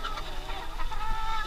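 Hens clucking inside a mobile chicken coop on wheels with high perches, several birds murmuring and clucking close by in a steady overlapping chatter.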